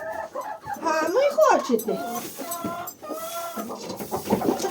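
Chickens cluck and call close by in a busy, uneven series, one pecking at a bucket, while a person speaks briefly over them.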